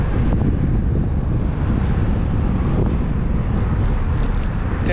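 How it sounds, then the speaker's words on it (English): Wind buffets the microphone of a bicycle rider heading into a headwind between George King Bridge and Bridgeland Station. The low, roaring rumble is loud and continuous and covers everything else. "the wind changed on me. It feels like I'm heading directly into it again"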